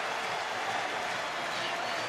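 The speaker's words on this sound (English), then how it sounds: "the Indiana crowd is trying to pump up their defense and get a stop" Indiana football stadium crowd cheering and roaring to pump up the home defense on a third down, a broad, steady wall of distant noise with no individual voices standing out.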